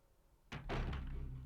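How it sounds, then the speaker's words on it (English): A door opens in the video game Resident Evil 1 with a sudden heavy thunk, then a second knock and a low, sustained rumble that fills the rest of the clip. "I don't know if I'm going through the right door or not."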